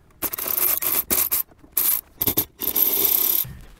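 A 9/32 socket wrench takes out dashboard screws on a Jeep Wrangler JK, heard as close, loud scraping and ratcheting bursts in short runs separated by brief pauses, ending in one longer grinding stretch.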